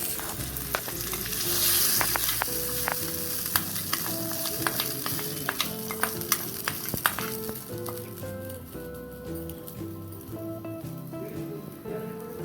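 Pachi pulusu tempering fries in a pan, a steady close sizzle with frequent sharp clinks and scrapes of a spoon against the metal, a faint tonal sound running underneath.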